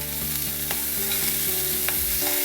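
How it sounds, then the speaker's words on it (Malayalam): Curry leaves being sautéed for Kerala-style egg rice, with a steady close sizzle and soft stirring scrapes in the pan, a few sharper spatula taps standing out. "അതിന് ശേഷം അതൊന്ന് കുറച്ചൊന്ന് വഴറ്റി, പിന്നെ കറിവേപ്പിലിട്ട്"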